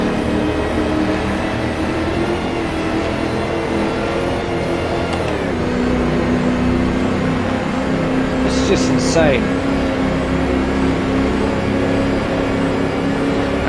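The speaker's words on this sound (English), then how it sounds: "that's the supercharger." Supercharger whine of a 1936 Mercedes race car at Donington Park in a racing video game, a steady engine drone with a rising whir, heard under a man's speech throughout.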